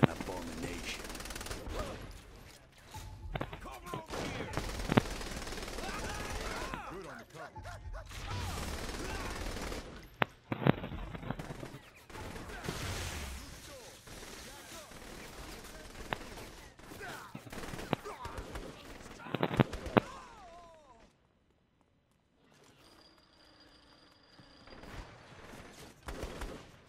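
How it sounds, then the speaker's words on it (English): Minigun and other gunfire in the video game Saints Row: The Third, dense bursts and rapid rattling shots in uneven clusters with loud spikes, mixed with game sounds before a quieter stretch near the end. "Minigun up above."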